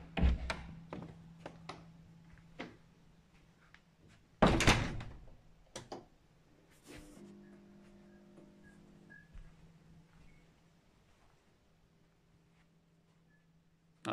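A workshop door in a moped repair shop opens with a latch click and a loud thunk near the middle, followed by scattered knocks, a faint hum and a quiet room afterward.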